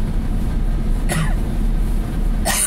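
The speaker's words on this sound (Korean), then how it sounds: "갑자기 기침이 나오니까요" Two harsh coughs, one midway and one at the end, break over a steady low rumble.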